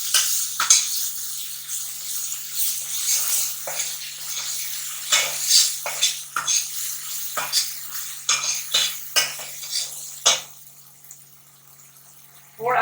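Ginger garlic paste fried in a pot for gola kabab, heard as a series of uneven scraping and clinking strokes of a spoon over a light sizzle, close and fairly loud, easing off at the end.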